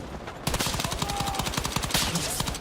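Rapid bursts of SL9 burst-fire rifle shots in Battlefield 6 crack out loud and close in a fast, repeating rhythm that fills the whole clip.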